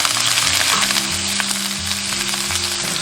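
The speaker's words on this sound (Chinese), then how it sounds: "加五花肉炒出油脂，" Sliced pork belly frying in a little cooking oil in a wok, a loud, steady crackling sizzle with a low hum underneath, close and continuous with no talk.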